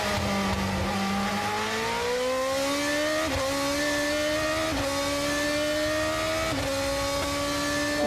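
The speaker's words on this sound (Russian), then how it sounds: "Очень похож звук мотора на звук Формулы-1, еще более мощный" A GP2 race car engine screams at high revs at the 2013 Bahrain race, pitch climbing steadily then dropping at each gear shift, loud and continuous with no talking.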